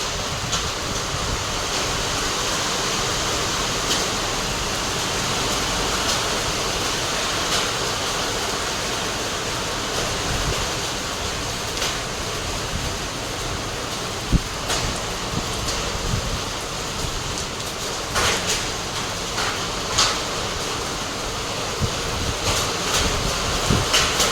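Hail falls on a tin sheet roof as a steady, dense rushing patter that holds loud and unbroken, with a few sharper individual hits standing out near the end.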